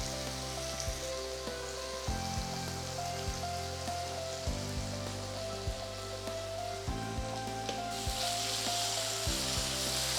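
Onions frying in a pan with a pinch of sugar and salt, a steady close sizzle and crackle running on without pause, with a few soft stirring knocks and no talking.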